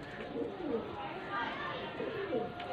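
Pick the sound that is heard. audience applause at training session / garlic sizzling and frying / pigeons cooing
pigeons cooing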